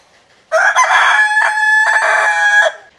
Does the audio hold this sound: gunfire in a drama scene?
no